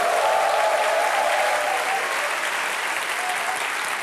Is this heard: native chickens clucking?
no